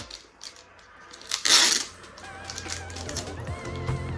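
A short, sharp rasping rip of adhesive tape being peeled off a Pokémon trading card blister pack, preceded and followed by light tapping and handling noises.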